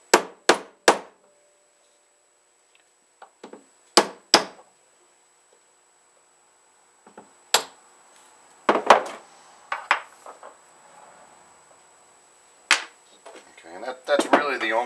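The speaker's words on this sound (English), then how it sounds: "bring the punch in onto the inner race, give it a couple taps" Hammer striking a steel punch set against a bearing's inner race, sharp metallic taps in small clusters with pauses between, loud and close in a quiet workshop.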